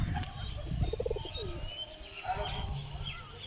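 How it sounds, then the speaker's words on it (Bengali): Pet pigeons give a short run of soft, pulsing coos close by, with chirps and faint flapping over a steady outdoor background and little talk. "কিছু কিছু কবুতর নিচের দিকে আসছে"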